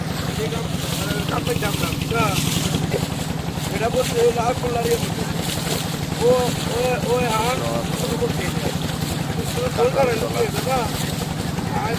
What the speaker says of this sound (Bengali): এখনই ছাড়বে আর কি নৌকাটা